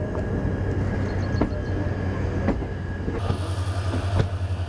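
The Bengaluru–Ernakulam superfast electric train runs steadily on the track near Salem Junction, with a continuous low rumble, periodic wheel clicks and a faint high squeal as it heads into a curve.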